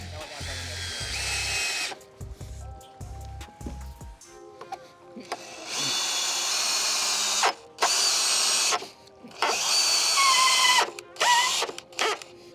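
A power drill bores holes for a dock net pad eye, whining in several bursts of varied length with brief pauses between them, after some low mechanical clunks at the start.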